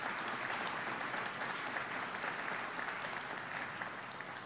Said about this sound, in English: let's have another round of applause for the governor